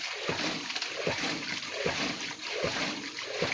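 Water gushing from the pipe of a homemade hydram pump, a continuous splashing flow with a soft rhythmic pulse of surges roughly every second, moderately near and without speech.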